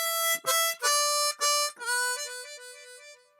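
Chromatic harmonica in C plays a slow blues phrase in E, a few sustained reedy notes with bends and pauses, then a longer held tone that fades out, close and alone.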